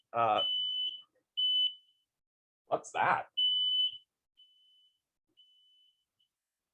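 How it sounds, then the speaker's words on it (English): A kitchen smoke alarm set off by cooking beeps in short, loud high-pitched bursts, trailing into fainter beeps at the end; a person speaks briefly between the alarm tones. "just a fire alarm, no big deal."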